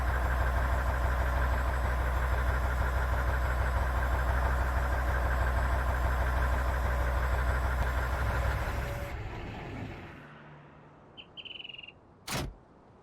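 A V8 engine platform in a farming-simulator game mod idles with a steady, loud low rumble for about nine seconds, then shuts off and winds down, followed by a few faint clicks and one brief sharp sound near the end.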